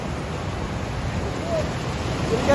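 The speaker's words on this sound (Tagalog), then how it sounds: "Ayun po yung dagat" Sea surf at a beach in Morong, Bataan, a steady broad wash of waves rolling in close and loud, building slightly toward the end with no pauses.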